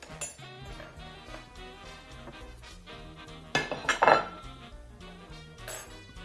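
A ceramic plate is handled while enchiladas are served, with soft clinks and scrapes and a sharper cluster of clattering dish and cutlery sounds near the middle, set against quiet background music.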